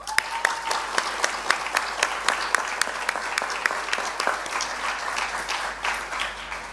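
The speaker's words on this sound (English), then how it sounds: "let's have a huge round of applause for the organizing committee as well" Steady, moderately loud clapping from a high school graduation audience honoring the organizing committee, with sharp individual claps standing out over the general applause and no speech.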